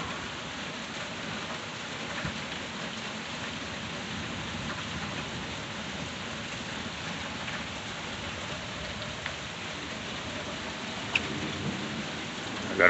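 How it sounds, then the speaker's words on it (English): A thunderstorm outdoors as rain keeps falling steadily on surfaces, lightning still about and the wind dropped, with a constant even wash of rainfall and no sharp thunderclap standing out, heard alone without talk. "if I shut up, you guys can hear the storm, huh?"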